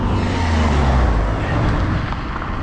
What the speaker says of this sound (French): ils font du bruit avec leur moto là